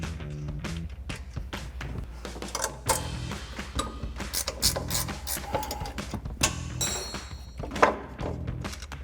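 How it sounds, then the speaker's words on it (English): A 15mm ratcheting wrench spins the top strut nuts off a 2004-2025 Ford F-150 front strut, giving rapid, close mechanical ratchet clicks and metallic clunks in irregular bursts throughout, with no talking. "we're gonna take our 15mm ratcheting wrench and take our top 3 nuts off up here"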